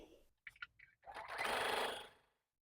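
A sewing machine stitches quilt block seams with a 1/4 inch seam allowance, a few short quiet starts followed by a steady whirring run of about a second, close and fairly soft.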